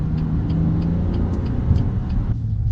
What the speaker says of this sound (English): The engine with the exhaust on it is amazing.